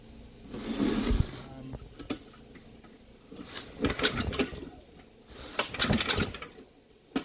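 A small knock-off Honda engine, exhaust removed, is turned over by hand during a teardown. It gives a few uneven bursts of mechanical chuffing and clatter with quiet gaps between them, close up.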